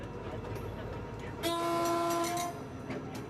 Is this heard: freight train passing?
yes